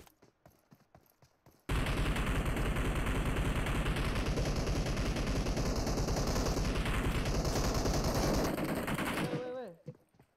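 Sustained rapid automatic gunfire from a video game, loud and continuous for about eight seconds before cutting off, with faint talk before and after.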